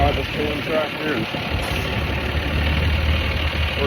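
A tractor engine idles steadily in sub-zero cold, a low continuous rumble close by with some wind noise over it.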